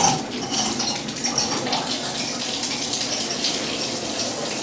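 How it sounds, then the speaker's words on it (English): A rain shower head in a hotel bathroom at the Hyatt Regency Cleveland sprays water in a steady, even hiss that holds at a constant level throughout, with no talking. "Let's test out this nice looking rain shower head."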